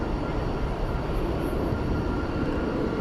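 Airliner passing DFW Airport at night, a steady broadband jet roar filling the whole moment without clear rise or fall, with no talk over it.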